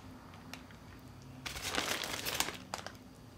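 Aluminium foil is peeled off a dish and crumpled close by, with quiet handling at first and then a loud burst of crinkling in the middle and a few short rustles at the end.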